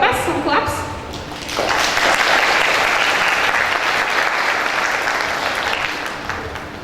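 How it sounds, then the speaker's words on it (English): An audience at an international English language teaching seminar applauds to welcome a speaker to the stage, starting with a few scattered claps and then swelling into steady, sustained clapping across the room before tapering slightly. "Some claps."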